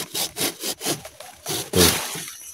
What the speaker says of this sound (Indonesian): Pakai gergaji.